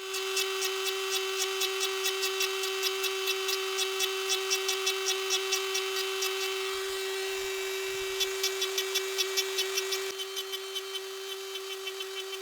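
A Dremel burr carving fine feather lines into scrap wood gives a steady high-pitched whine that pulses rhythmically as it cuts, then drops to a lighter idle near the end, close and alone.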